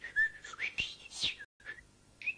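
A person whistles an imitation of a nightingale singing, producing short, bright chirps and trills in separate bursts with a brief silent gap, close and fairly quiet.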